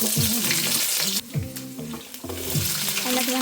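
Chopped garlic frying in hot oil for tomato rice, giving a continuous close sizzle with stirring and scraping sounds over it.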